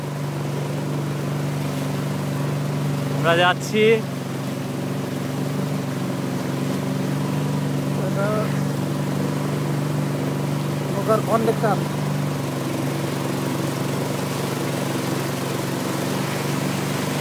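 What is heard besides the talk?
motorboat engine running on river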